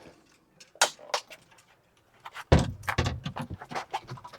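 A portable non-skid aluminum wheelchair ramp is grabbed and handled, giving sharp metallic clanks and rattles, one loud knock midway followed by a flurry of smaller clatters close by.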